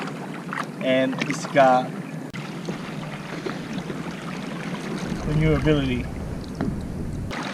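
A Crescent LiteTackle kayak moves across the water, with soft splashing and wind buffeting the microphone. Someone talks over it in short bursts.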